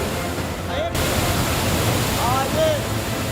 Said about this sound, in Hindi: ऊपर से पानी की तेज धार सीढ़ियों से होती हुई नीचे की तरफ आई।